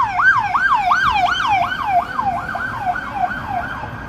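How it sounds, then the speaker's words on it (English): A police siren wails on a downtown Chicago street, a fast rising-and-falling yelp repeating about every half second, loud and close over low traffic rumble. "Welcome to the land of sirens"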